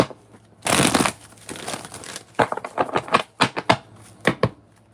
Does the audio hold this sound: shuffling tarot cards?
yes